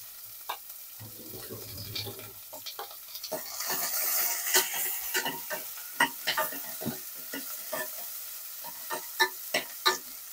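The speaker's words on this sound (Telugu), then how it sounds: "వీటి కూడా ఈ నెయ్యిలోనే నేను వేయించేస్తున్నా" Cashews, onion, tomato and garlic fry in ghee, a soft steady sizzle with frequent clicks and scrapes of a utensil stirring against the pan, close and alone.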